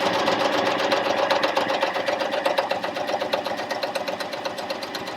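A Janome Coverpro 1000cpx coverstitch machine sews a hem, a fast, even mechanical chatter of needle strokes running steadily and close up for several seconds without talk.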